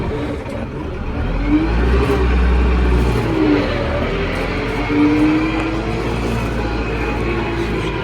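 A Lovol P4110 tractor on autopilot, in second gear and pulling a floating cultivator through a field, drones with a loud, steady close engine hum that rises slightly in pitch at a few points, with no talking.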